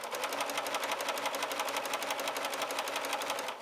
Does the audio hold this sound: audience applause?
no